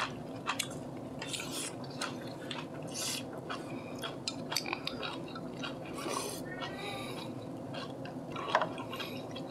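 Close, quiet chewing and crunching of a wrap of pork belly, green onion kimchi and bean sprouts, with moist bites and soft clicks and no talking.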